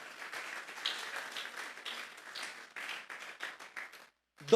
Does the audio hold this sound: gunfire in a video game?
no